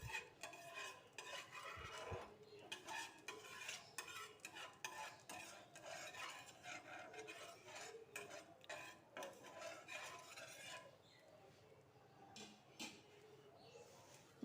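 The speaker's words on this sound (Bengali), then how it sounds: "এবার আমি এটাকে হালকা করে একটু ভেজে নেব।" Food is lightly fried in a pan with a little white oil: a faint, low sizzle runs under frequent soft clicks and scrapes of stirring, and grows quieter near the end.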